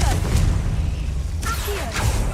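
Confringo blast spell cast in Hogwarts Legacy, two sharp explosive bursts with whooshing tails about half a second apart over a steady low rumble of game ambience.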